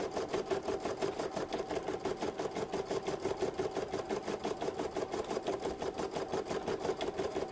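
An embroidery machine runs steadily, stitching detail lines on organza wings with a fast, even needle rhythm that stays constant throughout at close range.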